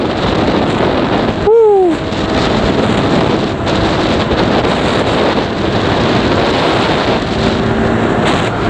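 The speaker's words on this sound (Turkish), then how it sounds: "Bayağı bir rüzgar var. Aşırı rüzgar var." Strong wind buffets the microphone in a continuous loud roar, with a brief sharp whistle-like tone early on.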